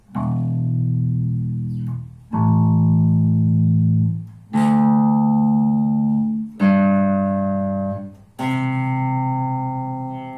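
Several sustained, deep plucked bass guitar notes ring out one after another through an amplifier, each fading slowly before the next.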